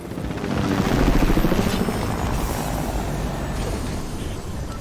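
A helicopter's rotor in Fortnite thumps and whirs in a steady rhythmic drone, swelling briefly then holding level, with no voices.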